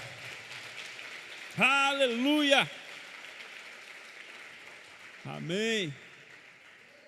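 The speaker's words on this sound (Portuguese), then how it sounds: "Dá um aplauso ao Senhor aí," Steady applause from a church congregation during a sermon, a continuous patter of clapping underneath two short voiced exclamations.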